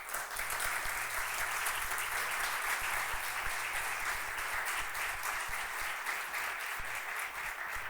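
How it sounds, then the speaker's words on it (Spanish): Sustained audience applause at the inaugural lecture of the Málaga Carnival 2024, a dense, even wash of clapping from a large crowd, steady throughout and somewhat distant. "Le damos un fuerte aplauso."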